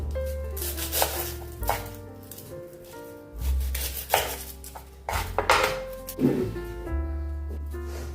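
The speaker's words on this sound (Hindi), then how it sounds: "अभी हम प्याज को काटेंगे" A knife chopping onions on a board for a dhaba-style cauliflower and potato fry, with scattered thuds and knocks over background music.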